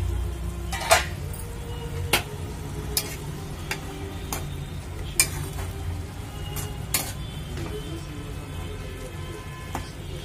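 A tomato and green chilli chutney cooks in a pan, giving a low simmering sizzle broken by scattered sharp clicks and scrapes of a spoon stirring against the pan, close but quiet.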